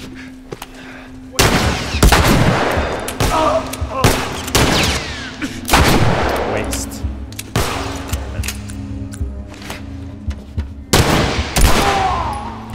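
Bursts of gunfire from The Last of Us Remastered, several loud shots in separate clusters over about twelve seconds, ringing out against a quieter low background hum between volleys.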